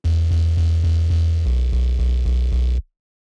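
A deep, chunky synth bass plays a pulsing, stuttering pattern, loud and up front, shifting to a new note halfway before cutting off abruptly.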